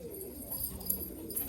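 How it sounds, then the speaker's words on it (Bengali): A standing pigeon at a pigeon sale near Baruipur coos softly in low, rolling notes, faint and close, over a quiet background. "এই হচ্ছে স্ট্যান্ডিং পায়রাটা"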